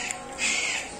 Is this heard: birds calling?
yes